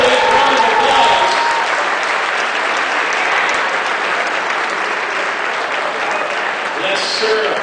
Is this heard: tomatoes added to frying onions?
no